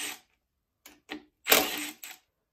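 A ratchet with an inverted Torx socket on K24 engine rod bolts, giving a few short, close clicking bursts separated by brief silences, with one longer ratcheting run.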